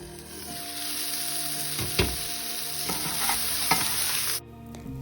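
Brussels sprouts and tomatoes fry in a hot pan with a steady close sizzle, broken by a few sharp scrapes and clatters as they are stirred, and the sound cuts off abruptly near the end.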